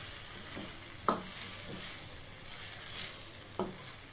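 Chicken frying in a pan gives a quiet, steady background sizzle, broken by a few sharp knocks and scrapes as it is stirred, with no one speaking.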